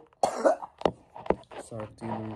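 A few sharp, harsh coughs close to the microphone, followed by a brief raspy throat sound and a short voiced groan.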